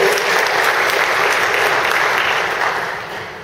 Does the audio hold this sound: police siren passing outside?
no